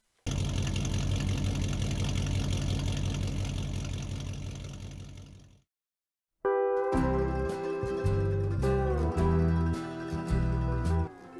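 A toy car's engine hums steadily as it pulls into a motorway rest stop, then cuts out briefly before loud low rumbling returns alone.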